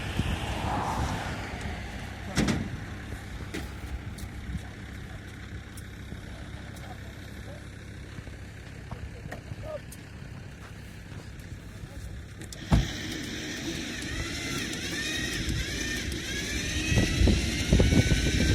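A car pulls away and drives off to the front lines, given to the 54th Brigade; a steady engine and road rumble runs throughout, with a sharper knock partway through and a brighter, louder stretch near the end, while voices murmur underneath.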